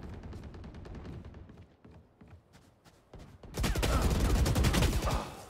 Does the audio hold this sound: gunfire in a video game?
yes